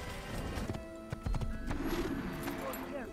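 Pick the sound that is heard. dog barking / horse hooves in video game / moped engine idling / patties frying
horse hooves in video game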